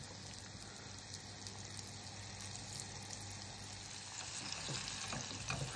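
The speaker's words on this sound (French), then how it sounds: "tu les mets à frire quelques minutes" Sardines frying in hot oil, a steady dense sizzle and crackle close by, faint and continuous with no voices.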